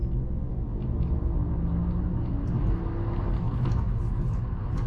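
Mini Cooper plug-in hybrid with a piggyback tuner accelerating hard under boost, a steady loud engine drone and low rumble holding through the full pull without a break.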